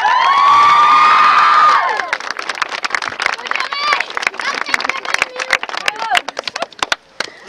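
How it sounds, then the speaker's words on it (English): Crowd at a youth under-14 Gaelic football championship final cheers with a sustained shout, then breaks into scattered clapping and whoops, with voices calling out over it. "both sets of managers deserve a round of applause"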